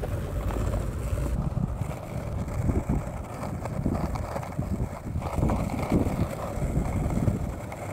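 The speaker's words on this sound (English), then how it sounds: "The wind feels so sweet out here." Wind blows outdoors and buffets the microphone with a steady, low, rumbling roar that swells and dips slightly, with no voices.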